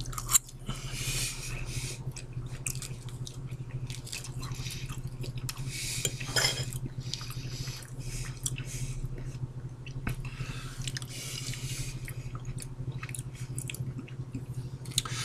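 Close-up chewing of a spicy chicken wrap in a flour tortilla, soft moist mouth sounds continuing steadily over a low background hum.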